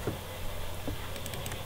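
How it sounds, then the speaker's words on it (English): Someone types a password on a computer keyboard, producing a few quiet, scattered keystrokes over a faint background hum. "Type your password. You can type your own password."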